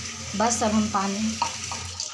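Water pours and splashes into a pan on the stove while Maggi noodles are being cooked, a steady running trickle under a person speaking.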